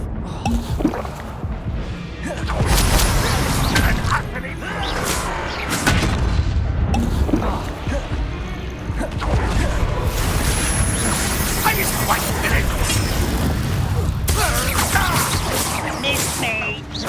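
Booming Bombarda spell explosions in Hogwarts Legacy roll through dense, continuous combat noise, with spoken voices mixed in.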